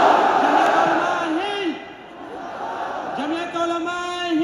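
A large outdoor crowd at a Jamiat Ulama-e-Hind rally in a stadium roars a loud, sustained chant in unison answering a slogan, with a lone voice calling out between the massed responses.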